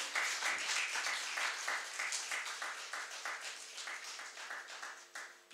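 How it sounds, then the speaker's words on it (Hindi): At a Hindi poetry and ghazal event, an audience applauds to welcome the chief guest onto the stage, a steady patter of many hands that pulses in loose rhythmic waves and tapers slightly, with no voices. "हम तालियों से इनका अभिनंदन करेंगे।"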